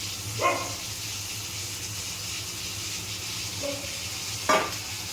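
Tomato, carrot and capsicum stirred in a frying pan, with a steady sizzle underneath and three short scraping stirs at the start, in the middle and near the end, close by and moderately loud.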